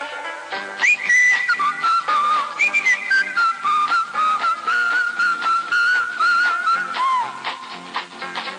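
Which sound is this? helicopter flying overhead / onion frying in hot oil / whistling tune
whistling tune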